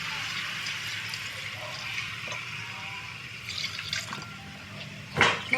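Water pours steadily from a tap into a cooking pot of string beans in a home kitchen, a continuous near splashing stream that builds to a brief louder gush at the end.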